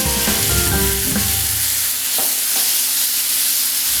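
Tomatoes drop into a hot pan with green chili and ginger garlic paste for paneer mutter makhana, a loud close sizzle that flares at first and then settles into an even hiss, with a couple of light utensil taps.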